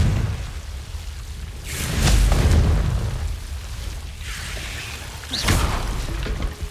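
Confringo blasting spells explode in Hogwarts Legacy, two booming bursts a few seconds apart, each a loud crack falling into a rumbling tail, set against a low ambient background.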